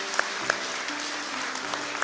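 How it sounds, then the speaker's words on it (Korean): A church congregation gives a short burst of warm applause during a Sunday worship service as a family comes forward for a blessing, steady mid-level clapping with a few sharp individual claps standing out. "이것만으로도 박수를 해야 돼요"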